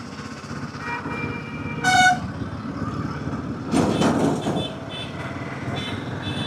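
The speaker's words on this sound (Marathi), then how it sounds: "ट्रॅफिक लगा रे बाबा" Traffic on the Mumbai–Pune highway heard from a motorbike gives a steady road rumble, with one short, sharp horn toot and a later swell of passing vehicle noise.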